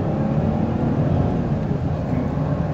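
Chrysler Pacifica minivan accelerating in L mode, a steady close engine drone and road roar that holds its pitch through the gears without pause.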